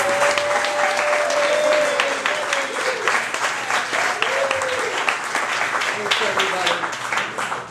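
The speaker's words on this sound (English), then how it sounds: "Big round of applause for Miss Debbie Hall." A storytelling-night audience gives sustained, lively applause for a performer, dense clapping with a few whoops and cheers rising over it before it gradually thins out.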